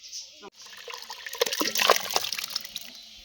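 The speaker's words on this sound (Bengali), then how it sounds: "ঠান্ডা জলে দিয়ে ধুয়ে নেব।" Boiled olives being rinsed in cold water, with close splashing and trickling water and handling noises building after a brief pause, under quiet background voice.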